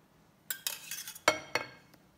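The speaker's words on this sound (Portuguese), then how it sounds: "agora eu vou acrescentar o restante do molho" A spoon clinks and scrapes against a pan as the rest of the sauce goes onto gnocchi, a handful of sharp metallic taps spread over about two seconds with quiet gaps between them.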